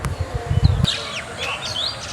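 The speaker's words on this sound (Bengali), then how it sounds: "পাখির কিচিরমিচির ডাক," Birds chirp and twitter in rows of date palm trees beside mustard fields, bright calls scattered across the clip after a burst of low thumping handling noise at the start.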